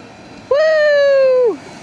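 An EV S10 on its first test run gives one steady, high-pitched motor whine lasting about a second, close and loud, then falling slightly in pitch and fading as it passes, over faint background noise.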